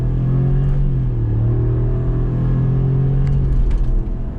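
A Ford F-250 with the 7.3L Godzilla V8 accelerates at wide open throttle, its loud, deep engine drone climbing steadily in pitch, dipping briefly as it shifts, then climbing again, close and continuous throughout.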